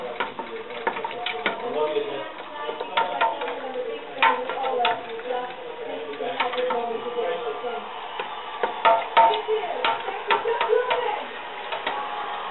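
A spoon stirs black pepper into a simmering Italian meat sauce, with soft repeated scraping and clicking in the pot and a gentle bubbling bed of sound, while a person talks over it.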